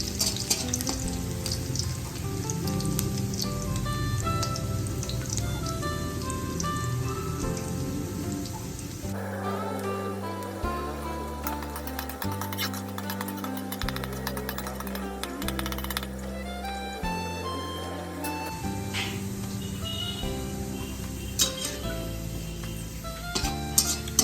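Garlic frying in a pan for Hakka noodles, giving a steady, close sizzle that runs the whole way through under background music with a heavy bass line.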